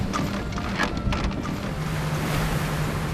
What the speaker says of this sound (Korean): 전어떼를 발견한 어부가 다급히 그물을 바다로 던지는데요